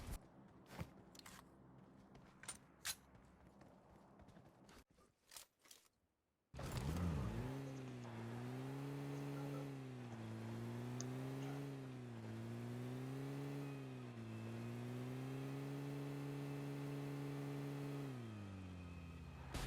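A Dacia car in the PUBG Mobile video game starts up after scattered clicks and thuds, then its engine drones steadily while driving, the pitch rising and falling with acceleration.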